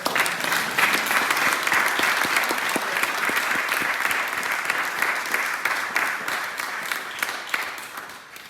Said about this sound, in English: I'd like again an applause for all of those women.